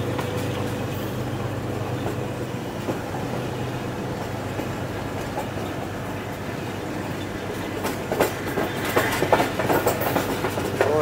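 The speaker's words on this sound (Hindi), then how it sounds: "ये जो आपको लाइन जाती हुई नज़र आ रही है जहाँ से ये ट्रेन आ रही है" A train rolls past on the railway line near Lala Musa junction in Pakistan, a steady rumbling with rhythmic clickety-clack of wheels over rail joints, fairly close and growing rougher toward the end.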